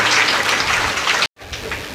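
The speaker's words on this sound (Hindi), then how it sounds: "ताली बजाइए।" A dense wash of audience clapping at a Shrimad Devi Bhagwat Katha religious discourse, loud and steady, then a brief silent break before the applause picks up again more softly.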